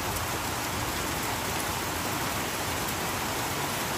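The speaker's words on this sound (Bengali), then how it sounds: "বাহ, সুন্দর বৃষ্টি শুরু হয়েছে, দেখো হেভি সুন্দর বৃষ্টি হচ্ছে" Heavy rain pours down in a dense, unbroken hiss, loud and steady throughout with no voices.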